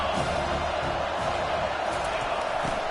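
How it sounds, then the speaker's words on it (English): A packed American football stadium crowd at a Tennessee game roars steadily during a second-down play, a dense, continuous wash of cheering with no break. "and this crowd is turning it up a notch"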